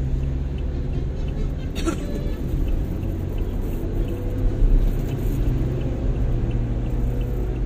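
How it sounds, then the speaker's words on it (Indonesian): Constant deep rumble of heavy traffic and big trucks rolling along the Jakarta–Cikampek toll road early in the morning, a dense broadband roar with low engine drone, heard from inside a moving vehicle with a faint high whine. "Wah, ini truk-truk besar nih"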